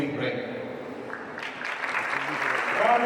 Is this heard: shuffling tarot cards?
no